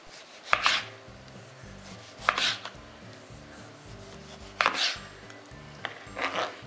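Knife slicing tomatoes into thin strips on a board, with four sharp chopping strokes spaced evenly and close by, over soft background music.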